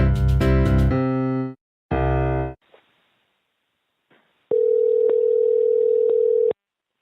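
Telephone tones before a phone call: short loud tone bursts, a few faint clicks, then a steady continuous dial tone lasting about two seconds, clear and close, with no talking.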